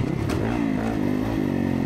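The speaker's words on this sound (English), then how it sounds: "Sounds so good with that FM exhaust." 2024 Kawasaki KX450 motocross bike with an FM exhaust at Stillwater MX, a loud close engine note rising and falling as the rider works the throttle, with no talking.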